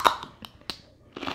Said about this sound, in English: Okay, let's eat some celery.